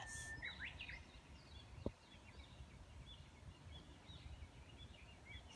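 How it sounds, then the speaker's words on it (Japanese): Chinese hwamei song drifts from a distance in the countryside near Mount Fuji: faint, repeated whistled and chirping phrases over a quiet background, with one soft knock midway. "ガビチョウが鳴いてるのが聞こえてきます。"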